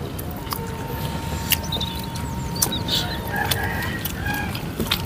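Chickens at an outdoor roadside food stall in Aceh, with scattered clucks and short calls over a dense, steady background of crowd noise and traffic.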